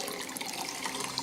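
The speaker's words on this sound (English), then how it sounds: "Give it a rinse with fresh clean tap water" Tap water runs in a steady hiss over a pH pen probe being rinsed, continuous and close.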